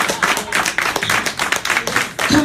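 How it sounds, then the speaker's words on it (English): A church congregation claps hands in a fast, rhythmic beat, close and loud, with the claps rising and falling in regular pulses. "Come on, clap your hands for Jesus."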